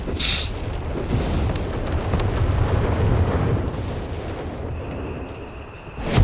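Mortar and artillery fire in the strategy game Company of Heroes 3, a dense continuous rumble of booms and blasts at mid distance, rising with a sharp louder hit at the end.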